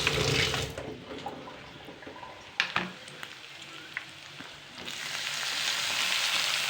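Tomatoes sizzle in a wok in a home kitchen while cooking a potato, pea and broccoli curry, with a loud frying hiss at first, then quieter crackles and stirring clicks.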